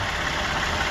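A Toyota V6 with an oil cooler leak idles nearby, a steady even rumble with no voices over it.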